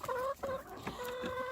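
Chickens clucking close by in a backyard coop while eggs are gathered, a steady run of overlapping clucks and soft calls with brief gaps, no talk.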